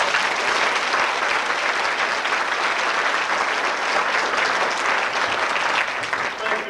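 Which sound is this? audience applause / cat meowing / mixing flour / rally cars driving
audience applause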